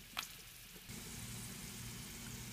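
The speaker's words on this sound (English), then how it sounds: "So you can see we got them sizzling away here." Low, steady sizzling of bratwurst sausages frying in olive oil, a soft crackling hiss that continues throughout, with a faint clink near the start.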